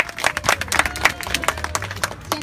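Children in an audience at a neighborhood Children's Day party clap for a girl contestant, a lively mix of individual sharp claps and looser applause in an irregular rhythm close by.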